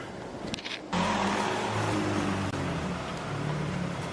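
A supercar on a city street, its engine surging in loud and close after a brief quiet start, then a sustained steady roar as it drives past.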